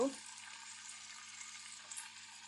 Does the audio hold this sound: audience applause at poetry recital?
no